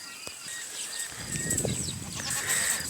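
Sheep in a large fenced pen holding about 500 animals give several overlapping bleats, near and fairly loud, over steady outdoor noise with faint bird chirps.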